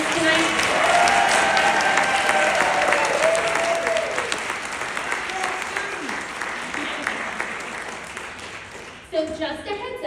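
An audience at a debate event gives a sustained round of applause for student helpers, dense and loud at first, then slowly thinning, with a voice beginning to talk near the end.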